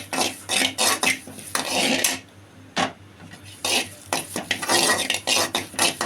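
Idli podi ingredients are dry roasted in an empty kadai, a spatula scraping in quick, loud, rhythmic strokes up close with brief pauses between bursts, and no talking.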